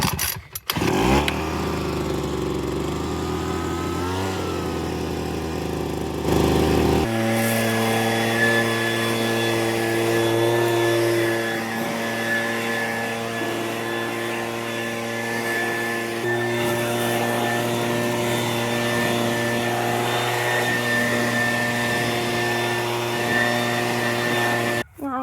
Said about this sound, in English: turn it to the running position and we'll do full choke, and let's see if it'll start.